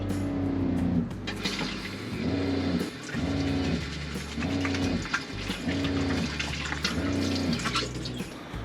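Tap water runs steadily in a 1999 Winnebago Chalet RV kitchen while the water pump pulses underneath in a rhythmic on-off cycle, roughly once a second, close by with no talking.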